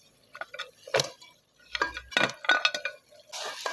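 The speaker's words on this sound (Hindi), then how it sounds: "अभी मैं इसके अंदर ये पाए शामिल करने लगा हूँ।" Mutton trotters (paya) go into a metal pot of masala, making a scattered series of clinks and knocks, near and fairly quiet, with short gaps between the hits.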